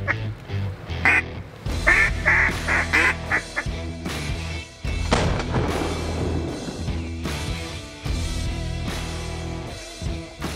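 A big flock of ducks quacks on all sides during a duck hunt, with dense overlapping calls going on steadily for ten seconds and goose-like honks mixed in.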